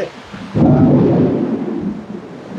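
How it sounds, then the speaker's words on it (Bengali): A sudden loud thunderclap bursts in and rolls on as a low rumble during heavy rain outdoors beside a parked Hiace van, fading slightly toward the end with no voices. "বৃষ্টি অলরেডি পড়ছে"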